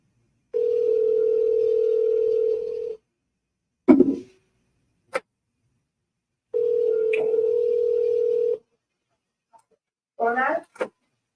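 A telephone call rings out on the line: two long, steady electronic ring tones a few seconds apart, each followed by silence and a few brief clicks and rustles.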